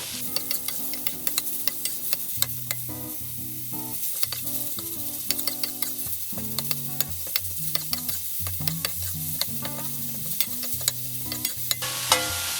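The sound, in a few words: stir-frying minced pork trotter meat in a wok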